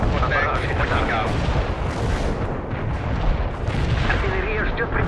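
An artillery barrage in the war game World in Conflict rumbles on as a dense, continuous roll of heavy booms and explosions, with faint voices half-buried in the din.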